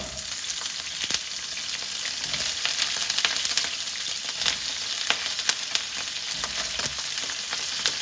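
Pork ribs fry in a hot pan with a steady close sizzle and scattered sharp crackles and pops, continuous throughout with no voices.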